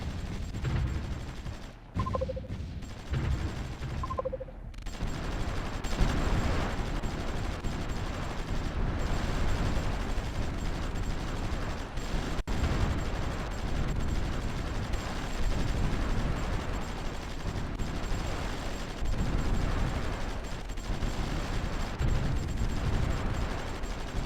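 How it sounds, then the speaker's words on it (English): Artillery bombardment in the Supreme Ruler Ultimate strategy game, a long steady rumble of distant guns and blasts with a few sharp clicks at the start, unbroken by speech. "At least we're bombarding the enemy, that's for sure."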